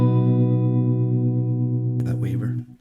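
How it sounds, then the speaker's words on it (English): Guitar through a Coffee Shop Pedals Cortado reverb, a held chord whose reverb trails carry a slow, mellow tremolo waver, sustained and steady before a voice starts talking near the end. "That waver, that little waver in the background there."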